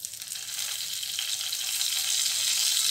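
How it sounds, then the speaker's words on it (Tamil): Cumin seeds and a slit green chili sizzle in a little oil in a kadai, a steady bright crackling fry that builds slightly over a few seconds with no voices. "அதே கடாயிலே கொஞ்சமாக எண்ணெய் ஊற்றிட்டு கொஞ்சோண்டு ஜீரகம், ஒரே ஒரு பச்சை மிளகாய் நடுவில் இப்படி கீறிட்டு"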